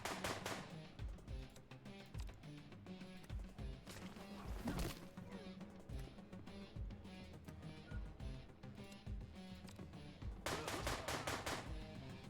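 Rapid gunfire in John Wick Hex, dense bursts of sharp shots and clattering impacts running almost continuously, with a heavier cluster near the end; loud and close, no talk.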